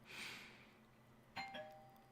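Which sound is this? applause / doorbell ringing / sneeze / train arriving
doorbell ringing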